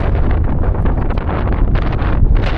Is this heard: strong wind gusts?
yes